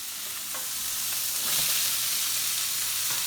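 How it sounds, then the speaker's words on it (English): Onions and peppers fry in a pan as a side for fried whiting, a steady broadband sizzle with occasional stirring scrapes, close and continuous without any talk. "we're gonna go ahead and get the onions started"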